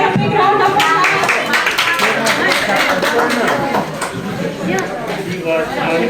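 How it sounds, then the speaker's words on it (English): Crowd applause for a woman receiving an appreciation certificate at a ceremony, a thick wash of clapping that holds steady across the clip, then dips slightly and swells again, with voices talking underneath. "Please give her a big round of applause."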